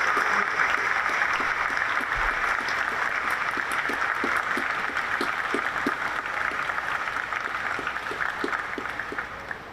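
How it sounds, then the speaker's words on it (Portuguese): Applause from the audience at a formal ceremonial session marking the 150th anniversary of a polytechnic school, dense sustained clapping filling the hall and holding steady for the whole stretch. "peço desde já um viva, muitos aplausos para a Escola Politécnica"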